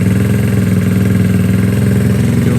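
A GY6 scooter engine runs steadily nearby, a loud buzzing, chattering idle with light throttle blips that barely lift the revs, and no voices over it.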